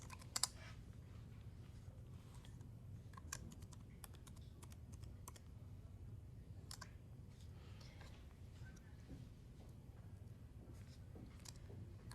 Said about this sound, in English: so let's just go ahead and type yes.